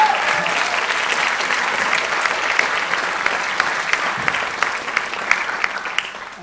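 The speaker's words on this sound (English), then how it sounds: "A big applause for him." Audience applause at a council general assembly meeting, steady dense clapping from a full room lasting throughout, with faint murmurs of the crowd underneath.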